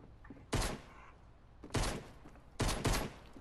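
Three loud gunshot bursts ring out in the Fortnite video game, spaced about a second apart, each a sharp broadband blast with a short tail and no talking over them.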